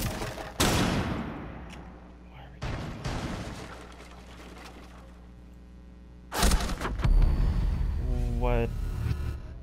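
Gunfire in the Rainbow Six Siege video game: a few sharp, loud bursts of shots spaced several seconds apart over a steady background hum, with a voice talking now and then between them.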